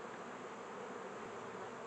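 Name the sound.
bees buzzing in a forest bee yard with hives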